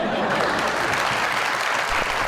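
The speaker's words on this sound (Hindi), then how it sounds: "ये बॉबी के लिए बजवाई हमने तालियां" A studio audience breaks into brief, loud, dense applause for Bobby on a Pakistani talk show, a short burst of clapping with no voices on top.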